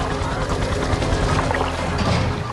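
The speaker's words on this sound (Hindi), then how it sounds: "स्थिति की गंभीरता को देखते हुए एक विशाल बचाव हेलीकॉप्टर आसमान से उतरता है" A large rescue helicopter descends in an animated rescue story over a flooded canal, its steady loud rotor chop and engine roar filling the whole stretch with a dense, continuous rumble.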